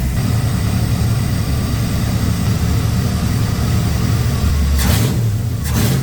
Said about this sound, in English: I gave it a little bit of idle just to keep it alive